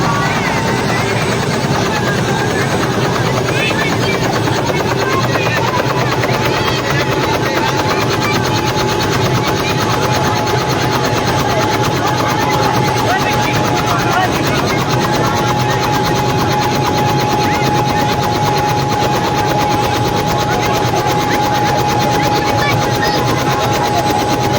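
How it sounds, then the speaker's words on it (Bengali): A helicopter flying close by in Nagarpur drones with a steady, loud rotor and engine roar that stays unbroken and near for the whole stretch. "দেখতে পাচ্ছেন হেলিকপ্টার"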